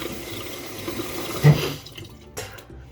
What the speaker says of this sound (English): And then I rinse it off.